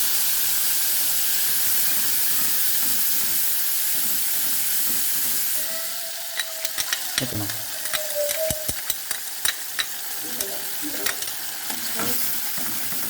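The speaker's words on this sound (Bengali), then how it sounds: "পেঁয়াজ আর লঙ্কা বাটাটা দিয়ে দিলাম তেলের মধ্যে" Onion and chili paste fries in hot oil over a low flame with a steady loud hiss, which later quiets as a spoon taps and scrapes through the pan in short bursts.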